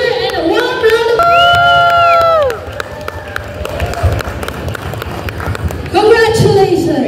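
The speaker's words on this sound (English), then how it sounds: "Let's give them loud cheer and a warm round of" A school book character parade crowd claps and cheers, with children's shouts and a sustained chorus of voices early on, then a softer scattered crowd murmur before the cheering swells again at the end.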